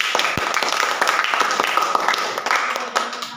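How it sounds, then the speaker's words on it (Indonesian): A classroom full of students applauding a classmate, quick, uneven clapping from many hands that keeps going steadily and fades slightly at the end. "Mari kita tepuk tangan untuk"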